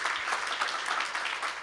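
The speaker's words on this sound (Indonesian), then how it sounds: "Tepuk tangan dulu untuk Tuhan yang luar biasa." Church congregation clapping during an online worship service, a steady wash of applause from many hands at moderate distance, with no voices over it.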